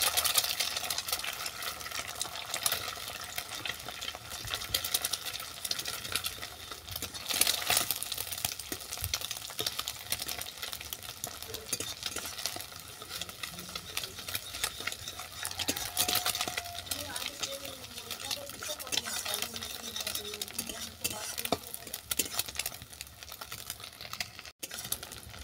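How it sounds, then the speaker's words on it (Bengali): Scrambled eggs stirred and frying in oil in a pan, a steady sizzle with scraping stir strokes running throughout, fairly close and moderately loud. "ডিম ঝুড়োটাও ভাজা হয়ে গেছে"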